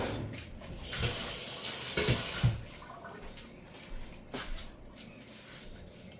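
A metal spoon clinks and scrapes against a pan and plate while creamy spinach pasta with chicken and sausage is served, with a few sharp taps over a low background of stirring.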